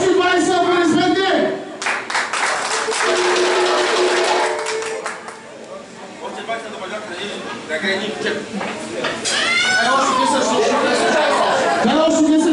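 A crowd at a lively show breaks into bursts of clapping and applause mixed with chatter, while a voice shouts and talks loudly over it in between.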